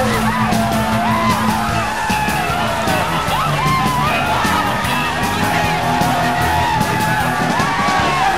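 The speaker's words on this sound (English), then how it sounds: "You can hear the exuberance of the crowd." A crowd whooping, yelling and cheering loudly after a group water immersion at Jacksonport, many voices overlapping in a sustained, boisterous roar close by.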